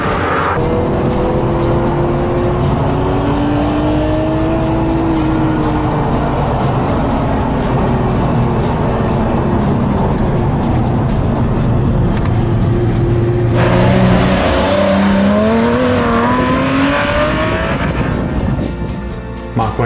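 A Porsche 996 911 GT3 MK1 Clubsport tuned by Manthey Racing, its engine loud and close, revving with rising and falling pitch sweeps through gear changes, then a sharp climb near the end.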